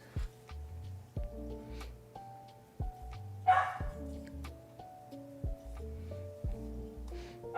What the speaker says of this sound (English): she's barking way more than she normally does